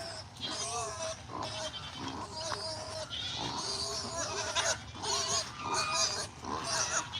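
A pig grunts and squeals in repeated short bursts close to the listener, with other farm animal noises and scattered voices mixed in.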